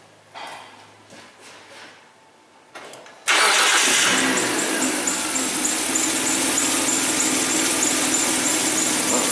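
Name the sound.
Hyundai Sonata engine starting up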